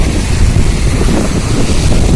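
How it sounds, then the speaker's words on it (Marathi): Sea waves washing up against the rocks at Ambolgad beach on the Konkan coast, a steady, loud, unbroken roar of surf mixed with heavy wind buffeting on the microphone, with no voices. "लाटा जरा वरती वरती यायला लागल्यात"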